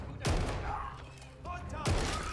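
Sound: gunfire from a mounted gun in the video game Call of Duty: Vanguard

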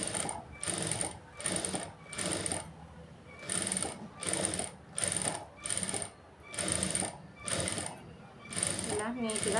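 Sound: sewing machine stitching a blouse

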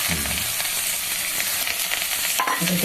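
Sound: frying and stirring in a pan

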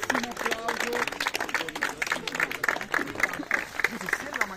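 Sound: applause for the tournament runner-up at an award ceremony

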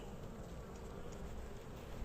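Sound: honeybees buzzing at hive

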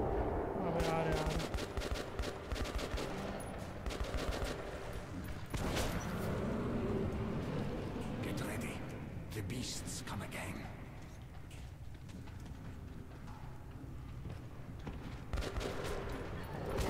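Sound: shotgun gunfire in the video game Metro 2033

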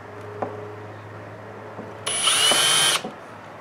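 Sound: drilling holes in wood

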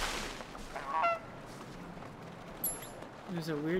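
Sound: goose honking in video game Knights & Bikes

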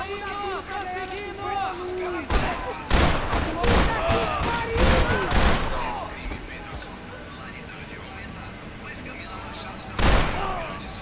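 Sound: gunshots in the video game Max Payne 3

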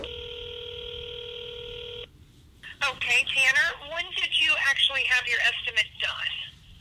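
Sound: telephone dialing tones while placing a phone call

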